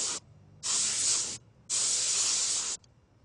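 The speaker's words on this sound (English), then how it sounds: "use your can of air to blow through the fins" A can of compressed air sprays through the fins of a computer fan in two long, loud hissing bursts of about a second each, separated by a short pause.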